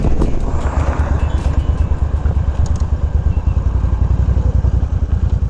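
Cruiser motorcycle ridden on sand, its engine thumping in a loud, steady, close pulsing drone with a rapid firing rhythm and a rushing wind blast throughout.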